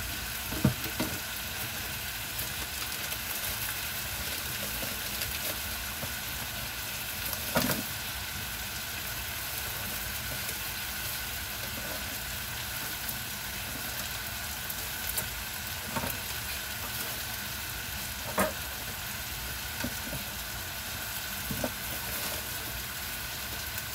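Bacon fries in its own rendered fat with a continuous, even sizzle and hiss, broken now and then by small sharp pops.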